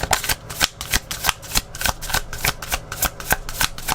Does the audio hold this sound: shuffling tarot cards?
yes